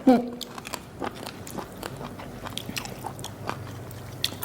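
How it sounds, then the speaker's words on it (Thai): Someone bites and chews a crunchy squid papaya salad up close, with repeated short crunching bites and chews that come and go over a few seconds, and speech occurs around them. "อันนี้กรอบกรอบกรุบกรุบมากค่ะ"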